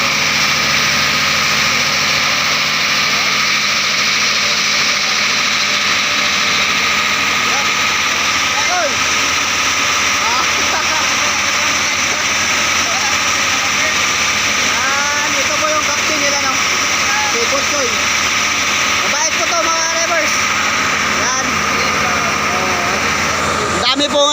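An island hopping boat's engine runs steadily throughout, a constant droning hum with people talking over it.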